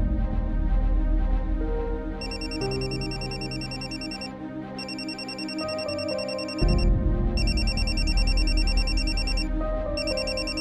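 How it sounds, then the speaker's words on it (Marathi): Mobile phone ringing with a melodic electronic ringtone, repeating in regular bursts over layered background music, loud and steady, with no voices. "आईचा फोन"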